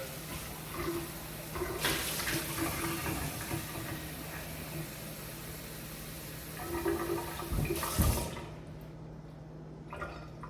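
Pot being filled with cold tap water for an induction hot plate, a continuous hissing rush of running water that surges twice before cutting off abruptly, close up with no speech.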